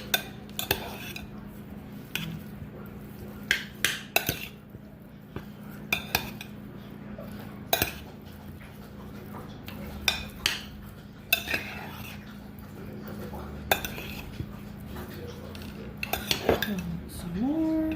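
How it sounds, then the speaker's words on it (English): Boneless chicken wings are stirred in a bowl to coat them, giving light scraping and clinking of a utensil against the dish, with a few sharper knocks spread over a steady low hum, close and fairly soft. "So I'm just gonna stir this around"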